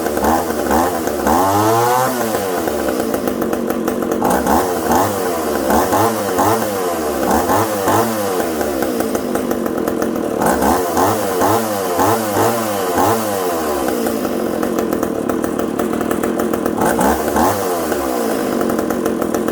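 A McCulloch 10-10 chainsaw with a boggy carburetor runs loud and close after starting, its two-stroke engine repeatedly revving up from idle in rising, whining surges that fall back, with no talking over it.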